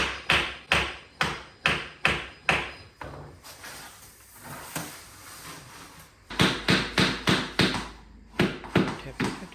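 Pieces of a pool bar being tapped into place, with a run of sharp, evenly spaced knocks close by, then a pause with a voice talking, then another quick run of taps.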